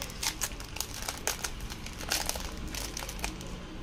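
A Sun & Moon Burning Shadows Pokémon card foil packet is torn open and handled, giving close crinkling and crackling bursts that come in irregular clusters over a steady background.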